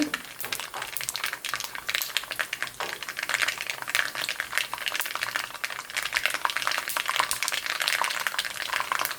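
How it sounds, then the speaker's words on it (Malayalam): Mustard seeds splutter in hot oil, a dense, close crackle of rapid irregular pops and snaps going on without a break, with no voices. "അങ്ങനെ കടുക് ചറവറാന്ന് കൂട്ടുന്നുണ്ട്."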